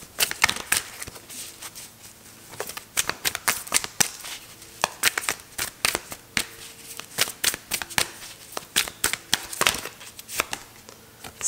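Tarot cards being shuffled, giving a steady run of soft riffling and papery flicks that rises and falls at close range with no talking over it.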